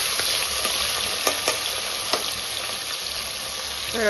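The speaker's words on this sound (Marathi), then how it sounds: "आता आपण हे जे उभे चिरलेले कांदे आहेत ना, ते छान असे लालसर होईपर्यंत तळून घेणार आहोत।" Sliced onions fry in hot oil inside a pressure cooker, giving a steady close sizzle with a few soft clicks of stirring.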